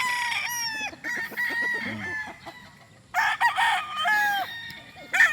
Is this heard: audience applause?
no